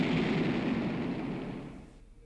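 A thrown Monokuma bursts in an explosion in the video game Danganronpa: Mauve, a broad loud rumbling blast that fades away over about two seconds.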